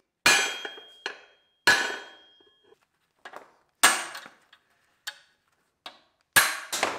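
Sharp metal hammer blows shearing rivets on a sickle bar mower ledger plate, about eight separate strikes in an uneven rhythm, each ringing briefly and decaying, close and loud with quiet gaps between.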